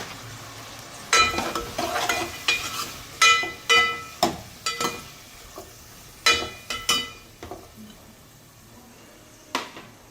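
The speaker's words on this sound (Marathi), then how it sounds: "आता हे छान 5 मिनिटं आपण तेलात परतून घेऊ." Tomato and green chillies sauté in hot oil for varan phal, a soft background sizzle broken by a series of sharp scraping stirs and light clinks of a spoon against the pan, coming in irregular bursts.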